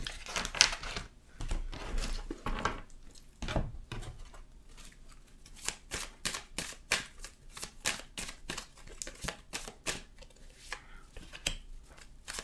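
Tarot cards are shuffled and drawn close to the microphone: repeated rapid riffling bursts and crisp flicks and slaps of card stock, irregular and sharp against a quiet background, with no speech.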